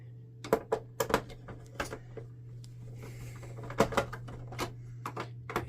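Screws being tightened by hand on an opened Canon Pixma TS3522 inkjet printer: sharp, irregular clicks and rattles in short bursts, close and moderately loud, over a steady low hum.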